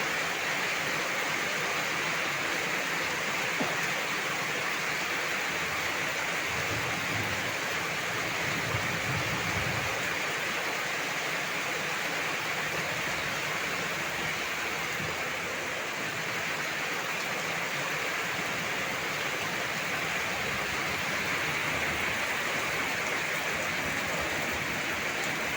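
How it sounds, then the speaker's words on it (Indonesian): A heavy downpour keeps up a constant, even wash of hissing rain for the whole stretch, with no breaks and no voices. "hujan adalah rahmat Allah"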